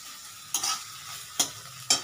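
A spatula scrapes poppy seed paste with sesame around a kadai for white aloo dum, giving three distinct stirring strokes over a soft, steady sizzle.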